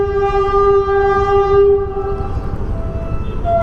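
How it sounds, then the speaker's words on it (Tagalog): A train passes near an elevated expressway construction site, its horn blaring in a long, loud, steady tone before giving way to a rumbling roll of wheels and cars. "May daan na train."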